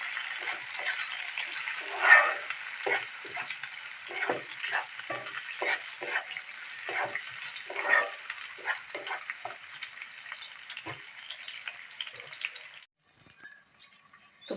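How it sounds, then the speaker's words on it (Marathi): Tomatoes and onion frying in oil for a spicy pea curry, a continuous close sizzle with repeated stirring scrapes and bursts that cuts off abruptly near the end, leaving only faint crackling. "तेलात भाजून घेऊ"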